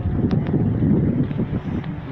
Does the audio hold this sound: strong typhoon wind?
yes